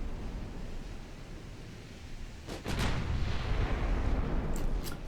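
Heavy warship guns firing in the Ultimate Admiral Dreadnoughts naval game, a low booming salvo over rumbling sea and battle noise, followed by a couple of sharper distant reports.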